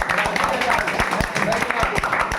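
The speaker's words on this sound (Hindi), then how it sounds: "ताली बजाई" Students in a civics class clap in a group, a steady run of sharp hand claps layered over a noisy room with voices mixed in.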